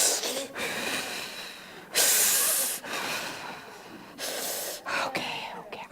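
Deep breaths drawn in and pushed out close to the ear, loud hissing inhales and exhales in several long bursts separated by short pauses, a person steadying themself alone.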